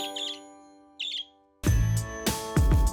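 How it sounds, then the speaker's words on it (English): Two short, high zebra finch chirps in a quiet apartment, followed by a burst of louder, busier sounds with a steady tonal hum underneath. "You might have heard chirping already in the background"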